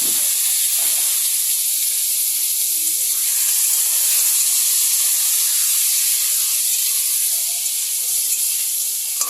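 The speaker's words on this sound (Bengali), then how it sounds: "এই গরম তেলে আমি ম্যারিনেট করা কাঁকড়াটা ঢেলে দিচ্ছি" Marinated crab tipped into hot mustard oil in a kadai for spicy crab curry, giving a loud, steady, close sizzling hiss that holds unbroken throughout with no talking.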